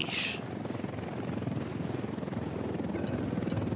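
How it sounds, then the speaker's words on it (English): Helicopter in the video game Ghost Recon Wildlands, a steady rapid rotor thump with a dense engine roar, loud and continuous with a brief high hiss at the start. "his helicopter is back."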